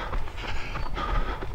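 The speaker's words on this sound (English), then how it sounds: "I'm sure they've organised for a train to come past in each direction while we're on here as well." A train running along a railway line beside a tarmac path at Tyne Green, a steady rumbling rush with faint wheel clatter, continuous and moderately loud throughout.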